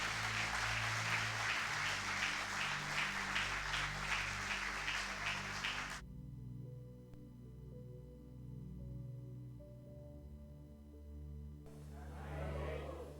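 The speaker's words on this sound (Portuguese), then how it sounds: "Agora é só falar amém e aplaudir ao Senhor" A church congregation at a special anniversary service applauds loudly for about six seconds over sustained organ or keyboard chords, then the clapping cuts out, leaving the music alone before a brief burst of clapping returns at the end.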